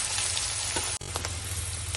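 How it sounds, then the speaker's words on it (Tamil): Chopped ginger fries in coconut oil in a pan, a steady close crackling sizzle that fills the clip, briefly broken by a short drop near the middle. "அதை நம்ம நல்லா வறுத்துக்கலாம்."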